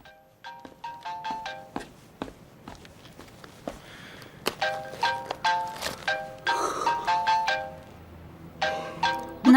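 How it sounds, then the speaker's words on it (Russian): A mobile phone ringtone plays in a room, a bright repeating melodic chime cycling steadily and fairly loud, with a few soft knocks or footsteps in the background and no talk. "Твой телефон звонит."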